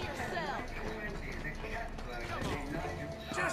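Horse hooves clip-clop steadily in the video game Red Dead Redemption 2, a continuous busy clatter mixed with game sounds throughout.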